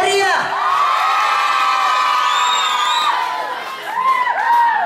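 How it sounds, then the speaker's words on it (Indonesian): A large audience at an Islamic boarding school's Muharram celebration opening cheers and shouts loudly, with voices whooping and rising in pitch, a continuous roar of many people with clapping mixed underneath. "Sekali lagi, beri tepuk tangan yang sangat-sangat meriah."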